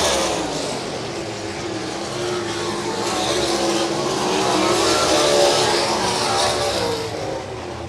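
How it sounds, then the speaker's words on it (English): Sprint cars roar through a heat race at a dirt track in Vinton, Iowa, engines holding a loud, continuous howl that swells and fades slightly as the pack passes. "Dustin Clark on the high side is your winner in heat race number 3."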